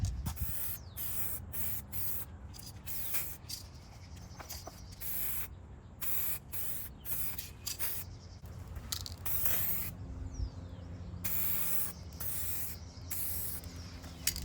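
2K matte clear coat sprayed onto carbon fiber parts: close, hissing spray bursts repeat in a steady on-off rhythm with short pauses between passes, and no talking.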